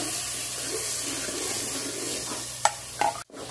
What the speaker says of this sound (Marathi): घातलेला मसाला फ्राय करून घ्यायचा आहे